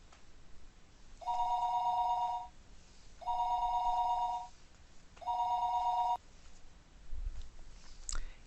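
A telephone rings in the PC visual novel Higurashi no Naku Koro ni with three steady, evenly spaced bursts of bright electronic ringing, followed by a faint click.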